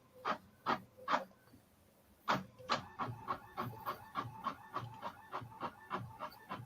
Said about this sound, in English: we got the printer going on that